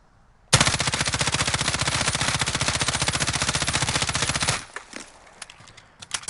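A long, rapid, evenly spaced burst of automatic rifle fire from Call of Duty Warzone, using a weapon fitted with rubberized grip tape. The fire is loud and close and runs about four seconds, then gives way to scattered clicks and small clatters.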